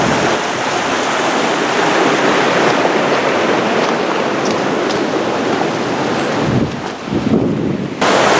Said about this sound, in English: See the wind picking up.